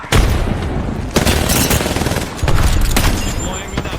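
Dense, loud gunfire from a Gears video game match, with sustained automatic bursts and heavy booming shots rolling on continuously, with a brief voice nearby.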